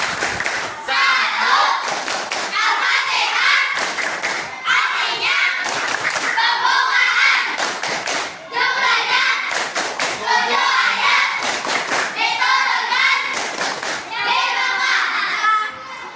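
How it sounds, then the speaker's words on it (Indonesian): Children perform the Al-Fatihah clapping chant, rhythmic group hand claps in repeated bursts mixed with young voices chanting, steady and close throughout. "Ayo, tepuk Al-Fatihah."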